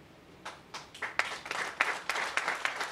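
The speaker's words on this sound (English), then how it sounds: "That was a retiree that started that applause." A retiree starts applause at a public safety building groundbreaking ceremony in Brockton: a few scattered claps quickly thicken into a moderate, steady round from the crowd.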